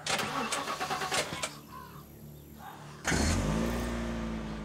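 A car engine in The Last Stand Aftermath game cranks and catches, settling into a loud steady idle hum after a few clicks and a quieter pause.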